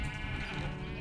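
A sheep bleats in a Mother Goose Club video game, a single wavering nasal bleat heard clearly with nothing else over it.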